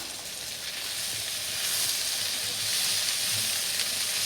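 Peppers, potatoes and kielbasa sizzle in a hot pan, a steady loud frying hiss that stays close and continuous throughout, with no talking.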